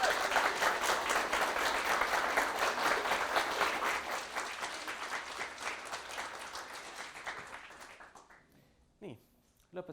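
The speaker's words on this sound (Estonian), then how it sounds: "Teeme neile kõigile ühe suure aplausi." A hall full of people applauds graduates and teachers at the Tallinn Polytechnic winter graduation ceremony, a steady wash of clapping that gradually thins and dies away before a voice and a few stray sounds follow.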